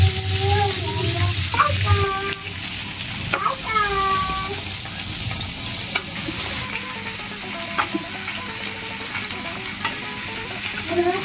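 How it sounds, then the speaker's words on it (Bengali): Prawns coated in turmeric and salt fry in hot oil in a wok, giving a continuous loud sizzle with occasional clinks and scrapes of stirring. "এখন মাছগুলো ভেজে নিচ্ছি।"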